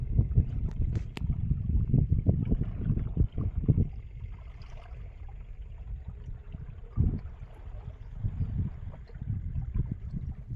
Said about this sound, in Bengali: নৌকা কিন্তু আজ আমাদের খুব দ্রুত গতিতে যাচ্ছে